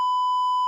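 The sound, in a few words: censor bleep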